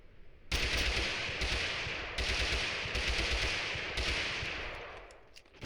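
Rapid automatic gunfire in Totally Accurate Battlegrounds rattles in long, loud sustained bursts separated by brief gaps, close and dominant with no voices over it.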